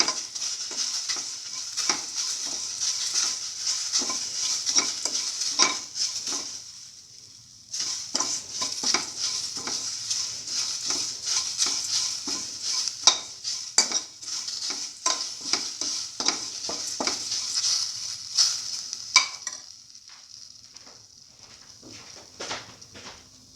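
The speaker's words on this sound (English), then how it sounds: "Thoroughly saute and mix." Banana vermicelli pasta is sautéed and stirred in a pan, giving a steady bright sizzle broken by frequent scraping strokes of the spoon, with a short lull midway before the sizzle resumes and eases toward the end.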